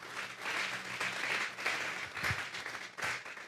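Church congregation applauding during a Spanish-language sermon, a fairly faint and somewhat distant wash of clapping that swells and dips over a few seconds.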